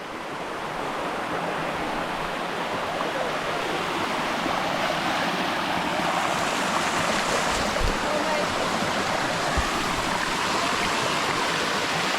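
Water rushes continuously at the sticky waterfalls in Chiang Mai, a dense broadband roar of falling water and stream flow, close and steady throughout with a couple of faint thumps and no clear speech.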